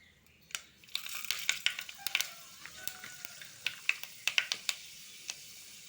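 Fenugreek seeds crackle and pop in hot oil while a curry is tempered, sharp scattered snaps that grow denser for a few seconds, close and fairly faint, with no talk.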